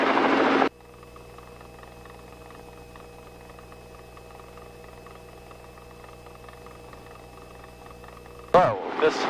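A helicopter lifts off during a flight lesson. Its engine and rotor make a steady, close droning hum with a constant whine, and louder rushing bursts come at the very start and end.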